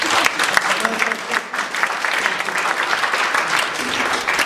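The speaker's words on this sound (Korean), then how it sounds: "박수 안 해주시나요?" Audience applause at a Korean mission forum lecture, steady dense clapping from a crowd sustained throughout, with faint voices mixed in.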